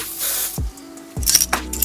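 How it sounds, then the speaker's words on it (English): Spray bottle misting liquid around the knots on a lace wig, two or three short close hisses separated by brief pauses, with small clicks and handling noises between them. "I'm just gonna spray this around the knots."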